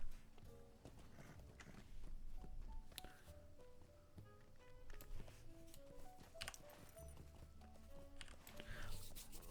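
Horse hooves walk with a soft, steady clip-clop in The Lord of the Rings Online, faint and quiet under game music.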